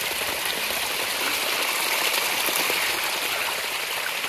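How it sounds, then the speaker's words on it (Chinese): Rainwater rushes down a mountainside after a full day and night of heavy rain, a steady, loud gushing stream with no break and no voices. "一下雨啊，山上就会流水下来，流很大这种"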